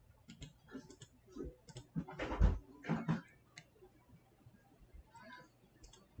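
Typing on a computer keyboard, quick light clicking keystrokes in short irregular bursts with pauses, close but soft.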